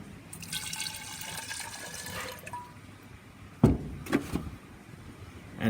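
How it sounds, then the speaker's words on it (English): Water runs into a SodaStream bottle, a faint trickling pour for a couple of seconds, followed by a few sharp knocks and clunks. "I'm going to fill up a SodaStream bottle"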